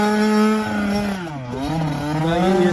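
An 85cc pit bike engine revs loudly close by, holding a steady buzzing pitch that dips and climbs again as the throttle is worked.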